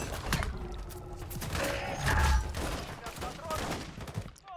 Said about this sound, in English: Okay, I hear shooting over here.